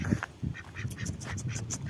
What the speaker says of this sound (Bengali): এটা এটা হাঁস, বতক। এই বতক।